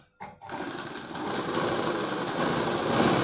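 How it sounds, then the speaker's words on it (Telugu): A sewing machine stitches blouse lining after a brief pause, a rapid, continuous buzzing whir up close that grows slightly louder toward the end, with no speech. "ఇలా ఫ్రీగా మనం కుట్టుకోవాలండి"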